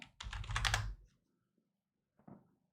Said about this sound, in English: Why is my computer not typing?